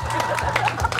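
A crowd at a traditional Korean pumba performance claps in a brief burst of applause, dense and steady, with voices mixed in under it.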